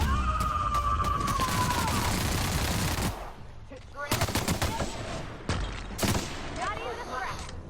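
A firefight in the video game The Outer Worlds: loud, rapid bursts of gunfire for about three seconds, then scattered sharp shots and impacts. Game speech and effects run underneath.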